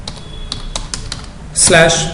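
Keys clatter on a computer keyboard in a quick, irregular burst of clicks while a web address is typed into a browser, followed by a louder, denser flurry of keystrokes near the end.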